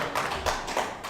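Wrestling crowd at a MidWest All Star Wrestling show clapping in a steady rhythm, three broad claps spaced about a third of a second apart, moderately near with a dense roomy wash behind them.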